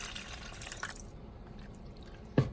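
Water is poured into enchilada sauce in a pan, a thin trickle and drip at moderate volume that tapers off, ending in a single sharp splash or clunk.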